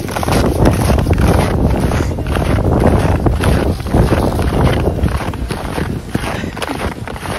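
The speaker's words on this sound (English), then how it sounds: "Wind is really blowing today." Strong wind buffets the microphone outdoors on a snowy dome in continuous loud, gusting roars, with faint crunching footsteps in snowshoes underneath.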